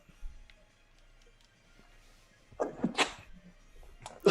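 One sharp sneeze bursts out indoors during a casual Super Smash Bros gaming session, rising out of near-quiet background chatter, followed moments later by another short, loud burst of sound.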